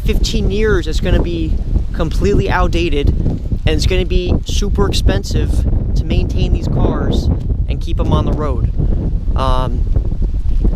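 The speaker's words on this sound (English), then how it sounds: "I'm sorry for the wind" Wind gusting hard into a microphone outdoors, rough low-frequency buffeting and rumble that continues throughout, with someone talking over it.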